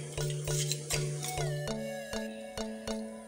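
A spoon stirring a sweet snack mixture with crushed cumin, cardamom and small shallots, giving several evenly spaced scraping knocks against the bowl, close up, with no talk.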